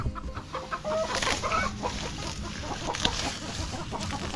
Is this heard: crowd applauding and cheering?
no